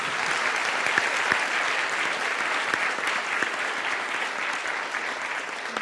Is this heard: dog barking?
no